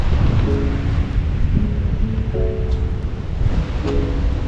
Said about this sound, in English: Atlantic Ocean, Indian Ocean.